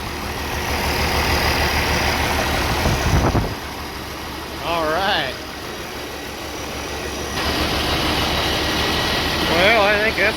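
A steady 3588 turbocharged engine idles low and continuous throughout, with a short louder burst early on and brief bits of speech over the running motor.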